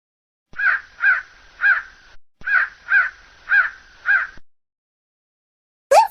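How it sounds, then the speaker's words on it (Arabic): A crow caws in a steady series of harsh, loud calls, two bursts of about four caws each with a short gap between, then one more caw at the end, close and alone without talk. "غراب."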